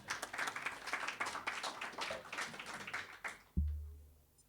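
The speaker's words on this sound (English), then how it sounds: "A round of applause for Mr. Mo in the back" Audience applause in a conference hall, steady clapping from many hands at moderate distance, ending with a sudden low thump and brief rumble.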